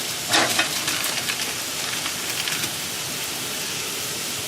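A thin burger patty sizzles on grilled onions on a griddle, a soft, steady hiss with a few brief crackling bursts near the start, fairly quiet and alone.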